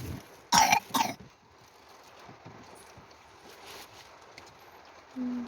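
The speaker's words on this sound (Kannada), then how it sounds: "ಕೆಮ್ಮು ಕೆಮ್ಮು." A person coughs twice in quick succession, loud and close, followed by a quiet stretch of faint background noise.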